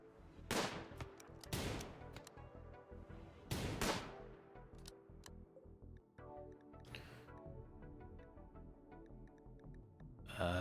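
Repeated bursts of gunfire from a RimWorld colony battle, several sharp volleys in quick clusters over a steady game soundscape, some loud and close, others lighter and scattered, with no talking.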